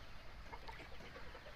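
Chickens clucking faintly in a rooftop garden, a soft, brief stretch of low fowl calls against quiet outdoor background.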